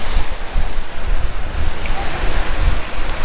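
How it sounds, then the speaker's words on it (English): Water tumbles down the stone steps of the Chatsworth Cascade, a formal stepped water feature completed in 1703, as a steady broad rushing wash with gusty, rumbling low-end buffeting. "Each step is different to the one below and above it to vary the sound of the falling water."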